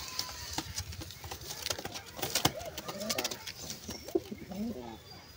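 A newly paired flock of Lakha pigeons, one feeding its young, gives low cooing bursts over rustling and soft patter of movement, close by and moderately quiet.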